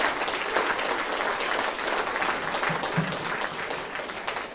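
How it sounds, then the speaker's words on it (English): A chapel audience at Paul Quinn College applauds the college soccer players with steady, dense clapping that holds at an even level throughout, close and full. "So we want to applaud all the players who stuck it out through this week."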